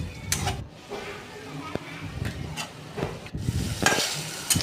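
Paneer frying in a little oil with turmeric and chili powder, stirred in a pan: soft sizzling under repeated scraping and stirring strokes, with voice audible intermittently.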